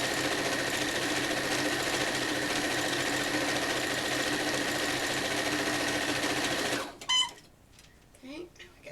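A sewing machine stitches rows of a T-shirt quilt in a fast, steady motorized whir that runs for about seven seconds, then stops. A few clicks and handling sounds follow.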